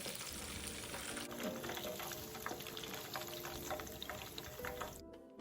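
Pork ribs marinated in fermented bean curd double-frying in hot oil, a faint, steady bubbling sizzle with small crackles running throughout.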